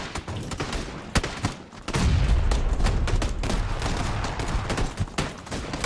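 Dense bursts of gunfire from the battle game PUBG: Battlegrounds crackle in rapid sharp volleys with a heavier rumbling stretch midway, loud and close, with no talk.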